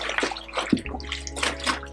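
Cloth diapers being hand washed in a tub of water, with sloshing, swishing and splashing sounds that rise and fall close by.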